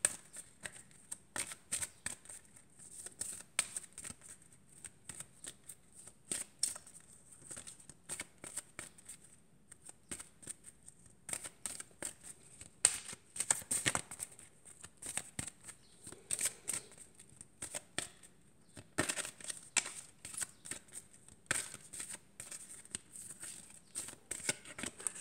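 Hands shuffle a Tarot de Marseille deck in repeated bursts of crisp riffling and card slaps, close and dry, with short pauses between passes and no talking.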